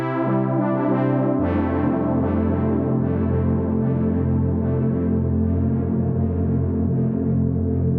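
A sustained Sequential Take 5 synthesizer tone rings out with lush reverb and echoing delay, a new note entering early and the sound slowly decaying and shimmering.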